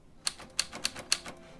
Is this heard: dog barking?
no